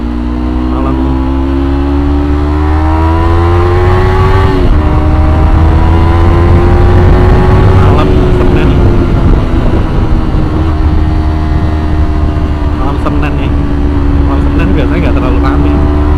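A motorcycle pulls away at a green light on a busy night street, its engine note rising and shifting steadily under background traffic and wind for the whole stretch, with voices faintly present.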